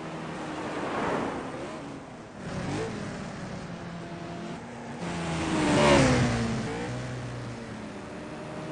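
Race cars in iRacing at Road America roar past through the kink, engine whines rising and falling in two distinct passes with Doppler sweeps, separated by quieter moments.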